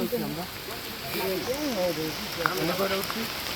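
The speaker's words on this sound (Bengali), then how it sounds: "বৃষ্টি তো আটকায় পড়তেছি ভাই বারবার" Steady rain patters down on a forest trek toward a waterfall, a constant soft hiss running beneath someone speaking close by.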